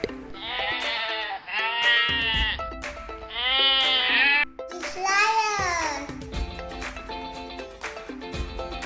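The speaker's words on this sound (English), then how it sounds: "Sheep. The sound of sheep is called bleat." Sheep bleat repeatedly in wavering, drawn-out cries, close and loud, several calls overlapping with brief gaps between them.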